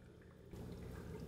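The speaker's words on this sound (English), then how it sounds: "now we'll rinse this off" Water from a tap or hose splashes steadily over a 3D printed part being rinsed during gold plating, a continuous pouring wash that starts abruptly and runs on without talk.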